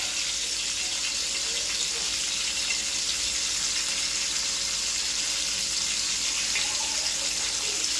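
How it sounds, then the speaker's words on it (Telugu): Fish pieces frying in oil in a pan, a steady, even sizzle with a constant hiss that holds at the same level throughout, close and alone with no talking. "బాగా నూనెలో ఫ్రై అయితేనే బాగుంటుంది"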